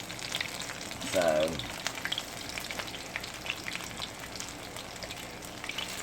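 Yellow squash patties fry in hot oil with a steady, close sizzle that runs the whole time, swelling briefly near the start as more go into the pan. A voice speaks a single word over it.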